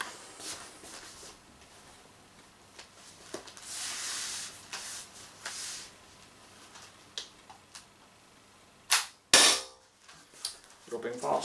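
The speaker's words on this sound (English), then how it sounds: "Let's see if I can pop off all five shots." A 16 joule Umarex HDR68 revolver fires. Faint clicks and handling noises lead up to sharp, loud cracks of shots late in the sequence, followed by more clicking.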